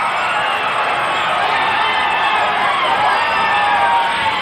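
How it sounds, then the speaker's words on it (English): A sellout crowd at a Portland Wrestling event featuring Andre the Giant roars with continuous loud cheering, whoops and shouts, a dense unbroken wall of arena noise. "A sellout crowd."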